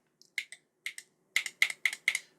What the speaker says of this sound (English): when I press a key